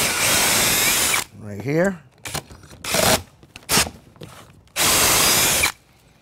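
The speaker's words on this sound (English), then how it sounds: "So we'll drill this down." A power drill whines in bursts, revving up and cutting out several times while drilling pocket holes for a cabinet door, with a brief spoken phrase between the runs.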